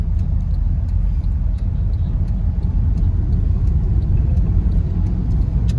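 Cars travel along the Mumbai to Solapur highway, heard from inside a moving vehicle as a loud, constant low road rumble and engine drone with no breaks and no speech.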